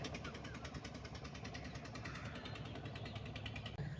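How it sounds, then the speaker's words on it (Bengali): A boat engine chugs steadily on a river, a continuous mid-pitched drone with a rhythmic knocking pulse, fairly close and unbroken, with faint voices beneath. "ওই যে একটা নৌকা যাইতেছে, দুইটা, দুইটা সামনাসামনি ক্রস করতেছে"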